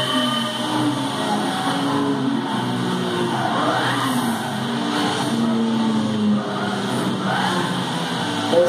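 A race car in Gran Turismo 5 accelerates hard, its engine note climbing through repeated rising sweeps as it shifts gears, loud and continuous over several seconds.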